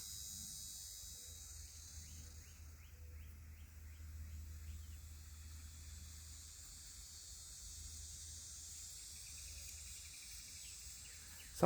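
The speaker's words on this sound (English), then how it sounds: "Sounds like cicadas." A steady, faint high-pitched buzzing drone of cicadas in Florida hangs over a quiet outdoor background, continuous and unbroken throughout.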